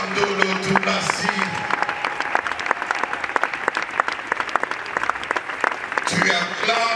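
Mourners applauding at a funeral in the Democratic Republic of Congo: steady, dense crowd clapping throughout, with a voice over the applause.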